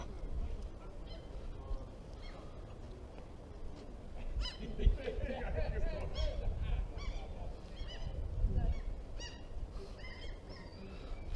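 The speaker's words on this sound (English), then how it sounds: "Seagulls acting up." Seagulls calling at a scenic waterside spot near Geiranger, a series of loud honking, squawking cries rising and falling over a steady outdoor rumble, with brief background murmur.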